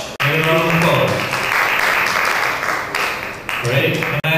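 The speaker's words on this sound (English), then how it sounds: "Give a round of applause." An audience applauds after a startup presentation, with steady, dense clapping filling the room for several seconds, close and loud, and a voice speaking over the start and end.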